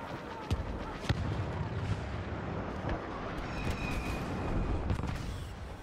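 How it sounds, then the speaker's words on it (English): Airstrike explosions in Star Wars Battlefront, a series of distant booming blasts and sharp cracks over a dense rumbling battle din, fairly faint. "Airstrike incoming."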